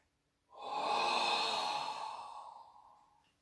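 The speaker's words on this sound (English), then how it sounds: "Bring your hands forward of your shins and exhale through mouth." A single long exhale through the mouth during a yoga session, a soft breathy rush that swells quickly and fades over about three seconds, close and quiet with no talking.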